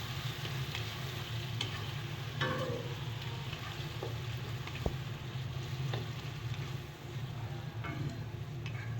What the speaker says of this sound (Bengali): ভালো করে এটাকে আমরা আলু আর পেঁয়াজের সঙ্গে মিশিয়ে নিচ্ছি।